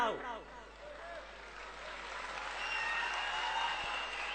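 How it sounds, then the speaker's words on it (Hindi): An audience claps through a patriotic speech at a college gathering, a dense, steady patter that swells slightly toward the end, with a voice briefly audible at the start. "आपकी तालियां इसी तरह से बजती रहेगी जब तक मैं खड़ा हूं"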